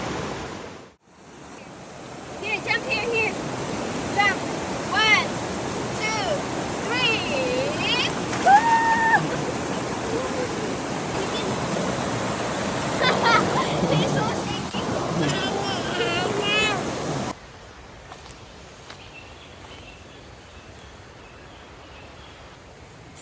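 Steady rushing water from a river current where people sit to bathe, a broad continuous wash heard close for most of the clip, with voices talking and calling over it before it drops away near the end.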